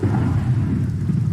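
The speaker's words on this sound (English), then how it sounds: "So with the thunderstorm going on" A thunderstorm in the Minecraft video game gives a steady, loud roar of rain and deep rumbling thunder that runs without a break and with no voices.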